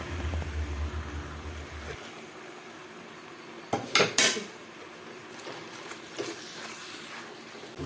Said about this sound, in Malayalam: എല്ലാം കൂടെ നല്ലപോലെ മിക്സ് ചെയ്ത് കൊടുക്കാം.